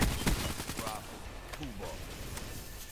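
Gunfire in Black Ops 3 multiplayer: a quick burst of close shots at the start, then sparser shots and game effects at moderate level, with faint bits of game chatter underneath.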